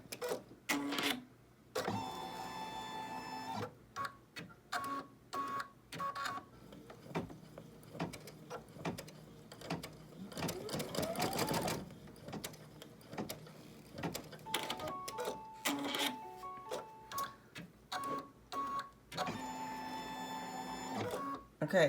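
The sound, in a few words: embroidery machine sewing placement stitches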